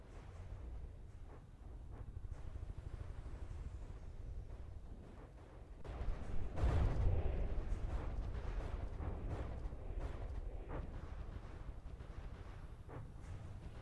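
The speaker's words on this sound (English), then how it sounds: "let's go ahead and watch the Alicorn do its firing animation" Alicorn submarine in a naval combat video game fires its weapons: a loud, dense boom erupts around the midpoint over a constant low rumble, then decays into a sustained roar, with no voices.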